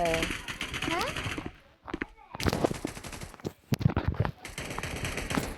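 Rapid automatic gunfire crackles in Blockfield, a 5v5 shooter game, in dense bursts separated by short pauses, with a voice talking over parts of it.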